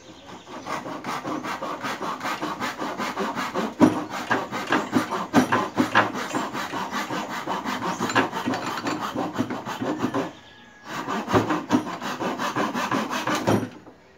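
A hand saw cuts through wood for an end lap joint, steady rhythmic rasping strokes close up and fairly loud, pausing briefly before a final burst of sawing as the piece comes free.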